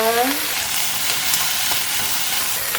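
Onion stir-frying with soy sauce in a pan for japchae glass noodles: a loud, continuous sizzling hiss close to the mic, with a brief voice at the very start and faint stirring taps.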